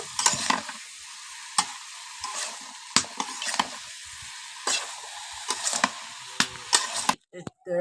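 Bottle gourd frying in a small wok is stirred slowly, a quiet sizzle broken by sharp scrapes and taps of the spoon at irregular intervals.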